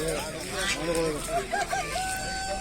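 At a Sakarya poultry market, chickens cluck and a rooster crows in short bursts close by, mixed with market chatter and voices in the background.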